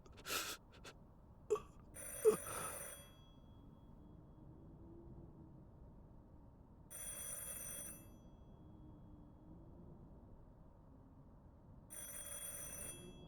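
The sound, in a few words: telephone ringing in a video game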